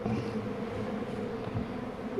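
Steady honey bee buzzing drones throughout, like bees humming close by, with a continuous low hum and no voices.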